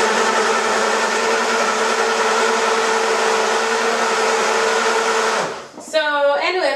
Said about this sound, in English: this blender is not the right one probably, but I think for something quick you can use it